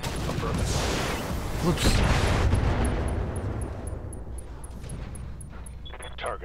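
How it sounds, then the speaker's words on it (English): Weapons fire at an enemy BattleTech mech in Roguetech with loud booming impacts and crackling blasts that fade into mechanical clicks and a faint electronic tone, while someone briefly speaks over the action. "And I think we just shoot this guy."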